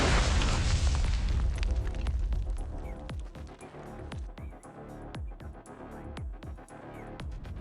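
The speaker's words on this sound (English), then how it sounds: "Within a second, a large explosion detonates." A large explosion detonates in a Star Wars role-playing audio drama, a loud booming blast followed by a long rumbling tail with scattered debris crackles and pops fading over several seconds.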